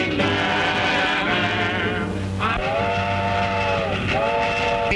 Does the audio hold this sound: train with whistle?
yes